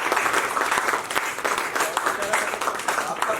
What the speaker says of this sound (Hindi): अगर अच्छा लगा हो तो एक बार जोरदार ताली हो जाए।